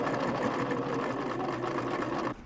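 A sewing machine stitches a jeans hem with the pant leg fitted around its free arm, running as a steady, fast mechanical whir and rapid needle chatter that stops abruptly at the end.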